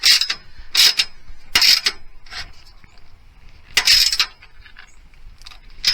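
Ratchet socket wrench driving bolts on the tie-down rails of a 2019 Ram truck bed, heard as several short bursts of quick metallic clicking separated by pauses, close and fairly loud with no talk.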